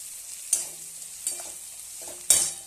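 Onions frying in oil in a home kitchen pan, stirred with three sharp spatula scrapes over a faint continuous sizzle, close and fairly quiet, no talk.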